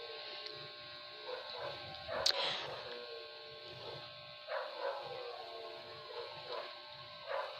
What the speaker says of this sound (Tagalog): Ayan, daming aso. Nakapitbahay yan.